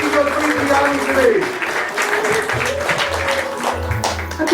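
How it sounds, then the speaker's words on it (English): Wedding guests applauding a couple at The Palace of the Lost City, a loud sustained crowd clapping with music and voices mixed in. "Let's give them a round of applause"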